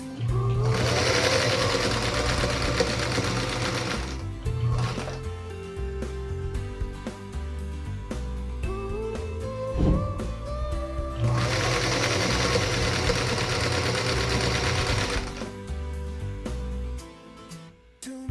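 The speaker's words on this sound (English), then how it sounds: "then we'll sew along that marked line" A sewing machine stitches along a marked line, joining 2 by 3.5 inch fabric units for a Spider Star quilt block; two long bursts of steady, fast, close whirring with a quieter pause between them.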